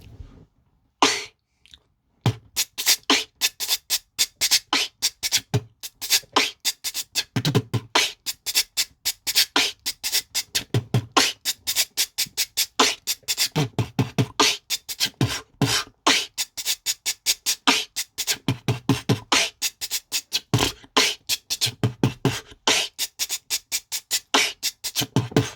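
Vocal beatbox imitating a UK drill beat, a long run of rapid clicky kicks, hissing hi-hats and snare bursts in a steady syncopated groove, close and solo after a brief pause at the start.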